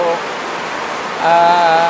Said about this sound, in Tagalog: ang lakas po kasi ng ulan, kaya kailangan kong sumigaw para marinig nyo po